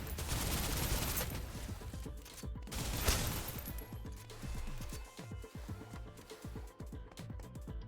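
A video game turret fires rapidly and repeatedly, a dense rattle of loud shots bursting across the whole stretch with short pauses and crashing impacts, up close.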